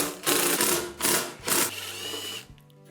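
A power screwdriver backs out number 2 Phillips screws from a KitchenAid oven broil element, with three short whirring bursts, each followed by a longer, fading spin.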